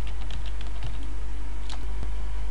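Typing on a computer keyboard while entering a shopping site's name into a browser, with quick, close, clicking keystrokes in an irregular patter over a steady low hum.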